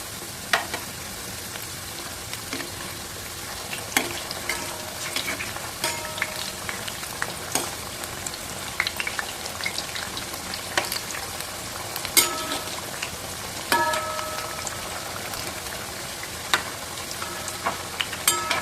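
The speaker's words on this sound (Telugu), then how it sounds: "చూడండి కొద్దిగా వేగిన తర్వాత అయితే ఇలా అయితే తిరిగేసుకుందాం అన్నీ కూడా." Chana dal flour snacks deep-frying on high flame, a constant fizzing bubble of oil with scattered sharp clicks as pieces are turned, close and steady throughout.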